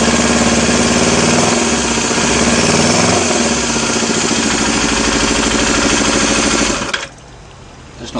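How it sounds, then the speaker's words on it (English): An engine with late intake valve closing roars loudly at full throttle, with rough, pulsing induction noise from reverse flow out of the intake, then drops suddenly to a much quieter level near the end. "that strange induction sound, there's a lot of reverse flows coming out the intake"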